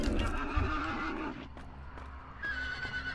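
A horse whinnies in the video game Hunt: Showdown, a loud, wavering neigh in the first second and a half that fades, then a fainter tonal cry near the end, close by.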